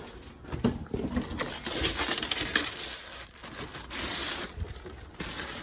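Protective plastic film peels and crinkles off a new RC truck in close, uneven bursts of rustling and crackling with short pauses between pulls.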